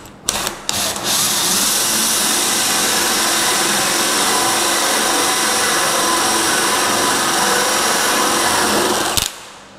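A power drill cuts a lock hole through a wooden door with a loud, steady grinding whir that runs for about nine seconds after a brief start-up, then stops abruptly.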